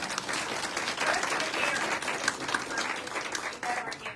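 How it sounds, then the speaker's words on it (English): Sustained audience applause fills the room at a ladies' spring fashion style show at Four Seasons in Geneseo, Illinois: a dense, even wash of many hands clapping throughout, with faint voices mixed in. "Let's give Helen a round of applause"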